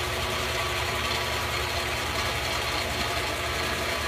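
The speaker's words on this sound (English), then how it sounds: "Now I'm just going to let the motor on the auto feed do all the work for me." Vintage milling machine running under its motor-driven auto feed, a steady dense mechanical hum and rumble that continues unchanged and close throughout.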